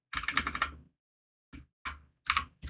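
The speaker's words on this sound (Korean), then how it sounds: "키보드로 하는 게 나을 것 같아요. 키보드로 하겠습니다." Bursts of rapid key presses on a computer keyboard during BIM modeling software work, a dense clattering run followed by a pause and several shorter clusters of clicks, close and clear with no voices.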